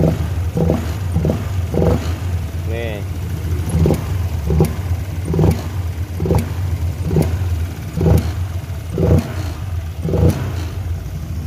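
A Honda Vario 150 scooter engine, just after a throttle body service, runs steadily up close, with a regular series of brief throttle blips pushing the revs up roughly every second and a half.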